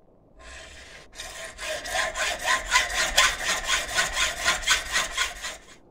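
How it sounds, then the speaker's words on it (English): Hacksaw cutting a rod into pieces for magnesium water filter batteries: steady rhythmic back-and-forth strokes, close and loud, about a dozen even passes after a short start, with no talking. "I'm just going to cut these off with a hacksaw."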